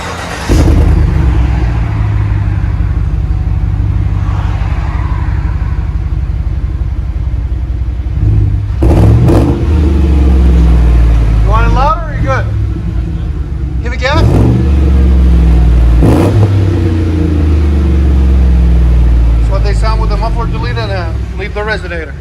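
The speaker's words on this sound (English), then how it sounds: "Then we put a 3-inch pipe instead of the muffler. And then we put a 3-inch with a 4-inch tip." Chevy Tahoe 5.3L V8 with a 3-inch pipe and 4-inch double-wall tip in place of the muffler, rumbling steadily at close range, with a few sharp revs swelling over the idle as people talk nearby.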